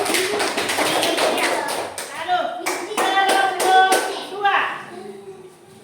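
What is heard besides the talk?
class clapping hands for group 1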